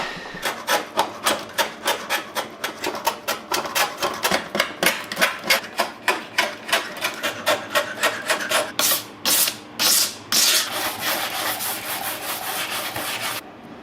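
Fiberglass on a Vertex AE86 bumper fitted to a Subaru BRAT is trimmed with a steady rhythmic rasping, loud and close, with even strokes that blur into a continuous grinding roar toward the end.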